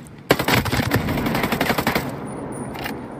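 Rapid automatic gunfire in a sniper video game, a loud close burst of shots in fast succession that tails off into fainter echoing pops.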